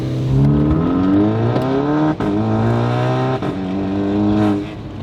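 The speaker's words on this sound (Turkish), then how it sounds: "Şanzıman geçişleri çok iyi. Çat çat çat geçiyor." A Volkswagen Scirocco with a DSG gearbox pulls hard from inside the cabin, its engine note climbing and then dropping sharply at two or three quick gear changes before it rises again.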